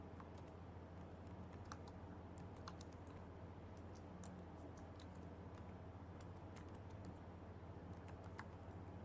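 Typing on a computer keyboard while entering text in an MS Word document, a quiet run of light irregular key clicks over a steady low hum, with no talking.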